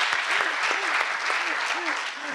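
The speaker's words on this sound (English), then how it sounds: "So let's applaud." Conference attendees applaud during a PyCon Italia lightning talk session, with a steady wash of clapping under a voice that speaks over it.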